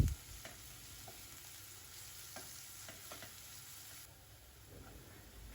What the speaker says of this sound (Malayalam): സവാള പെട്ടെന്ന് വഴന്ന് കിട്ടാൻ വേണ്ടി കുറച്ച് ഉപ്പിട്ട് കൊടുക്കുക. എന്നിട്ട് നന്നായിട്ട് വഴറ്റി എടുക്കുക.